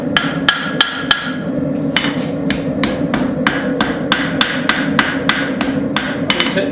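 A hammer strikes the spine of a forged railroad spike knife in a steady run of about twenty ringing metallic blows, close and loud over a constant roar from the forge, with no talking.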